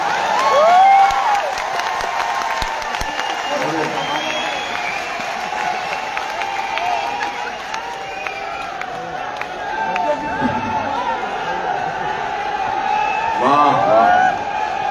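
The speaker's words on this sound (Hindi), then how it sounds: "इतनी बार तालियां बजवा ली इन्होंने।" A large audience at an RCM program event bursts into applause and cheering, clapping swelling and fading in waves with whoops, while someone speaks over the crowd at times.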